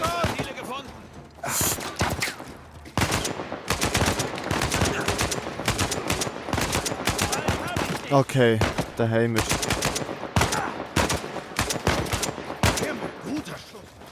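Rapid bursts of Uncharted 4: A Thief's End gunfire crackle almost nonstop, loud and close, with a voice speaking briefly and a buzzing mechanical tone in the middle.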